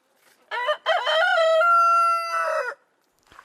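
A rooster crows once, loud and close, a drawn-out cock-a-doodle-doo with a long sustained final note, followed by a short faint cluck.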